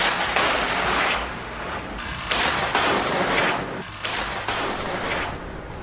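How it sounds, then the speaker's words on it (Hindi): Combat fire between Hamas fighters and Israeli troops with their vehicles in Gaza: loud, close bursts of gunfire and heavy blasts roll in repeated waves, dense and continuous throughout, with no voices. "इजरायली सैनिकों और उनके वाहनों पर हमास के लड़ाके रॉकेट और गोला बारूद बरसा रहे हैं"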